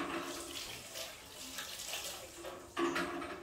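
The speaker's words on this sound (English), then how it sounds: "let me wash my hands really quickly" Tap water runs steadily into a sink while hands are washed before mixing longaniza meat, a continuous close splashing hiss that briefly loudens near the end.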